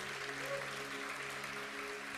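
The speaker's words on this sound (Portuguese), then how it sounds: "pode aplaudir" Applause from a church congregation during a sermon, a steady dense wash of clapping with faint tonal hum beneath, continuous for a couple of seconds.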